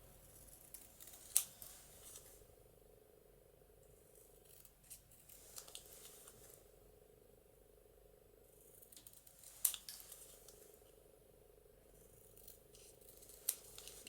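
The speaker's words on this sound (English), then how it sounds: "I would just trim the edging off." Scissors trim the white edging off a paper sticker, quiet close snips and rustles repeating over several passes, with a few sharper clicks at intervals and no talk.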